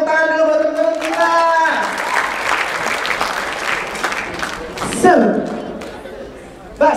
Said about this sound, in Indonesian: tepuk tangan dulu buat teman-teman kita